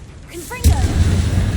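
Confringo blasting spell going off in the Hogwarts Legacy video game: a short swishing cast followed by a sudden loud boom with a rumbling, crackling tail.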